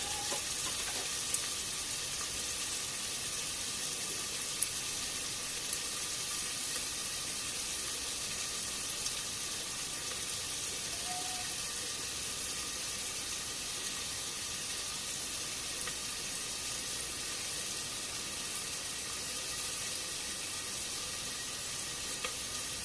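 Chopped onions fry in a pan for a Sindhi aloo fali sabzi, a steady, dense sizzle that holds even throughout with no voices over it.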